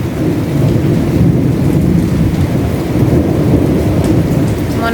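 Thunder rolls over a small garden during a rainy day in Saudi Arabia, a loud, sustained low rumble layered over the constant patter of falling rain, with no talking.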